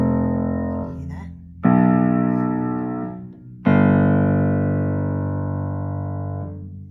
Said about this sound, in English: I'll play them on the piano here.